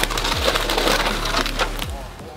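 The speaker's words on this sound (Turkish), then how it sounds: "Arabayla üstünden geçiyor kırılmıyor bu." A car rolling over a sturdy object that cracks and splinters, loud close woody crunching and snapping over a low engine rumble, with a couple of sharper cracks.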